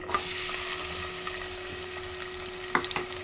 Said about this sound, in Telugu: ఆయిల్ అయితే వేడైంది. ఫస్ట్ అయితే ఎర్రగడ్డలు వేసేసుకుందాం.